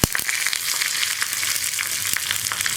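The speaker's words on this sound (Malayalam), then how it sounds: "അപ്പോൾ നമ്മുടെ കടുക് പൊട്ടി കഴിഞ്ഞുകൊണ്ടിരിക്കുന്നുണ്ട്. നമുക്ക് വറ്റൽമുളക് ചേർക്കാം." Mustard seeds crackle and pop in hot oil as dried red chillies and curry leaves go in for tempering a Kerala green gram curry, a dense sizzle with sharp irregular spits, close and steady, with no talk.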